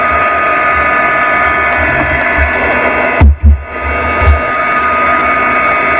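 Heat tool blowing steadily and loudly while drying a wet spot on a card, a constant close whoosh with a brief interruption midway.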